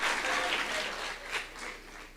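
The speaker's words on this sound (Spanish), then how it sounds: "A eso le aplaude, ¿ves?" Audience applause swells briefly, a dense patter of clapping that fades slightly toward the end.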